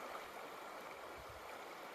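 A river in the Cairngorms where salmon swim flows in a soft, steady wash and gurgle, faint and continuous, heard alone without voices.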